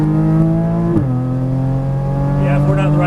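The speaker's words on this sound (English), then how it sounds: "Now off the brake on the throttle, start feathering that throttle." A Porsche Cayman GTS engine hums steadily under light, feathered throttle, with a brief dip near the middle before the tone settles and rises slightly, a voice talking over it.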